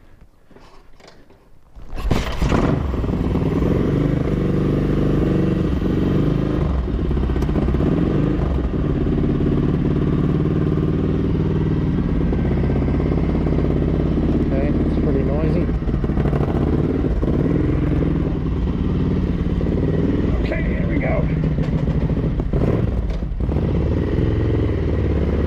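A Ducati 900SS bevel-drive motorcycle engine, fitted with exhaust headers and 140 and 145 main jets, fires up after a brief quiet and runs loud and close with a steady, throbbing roar for over twenty seconds.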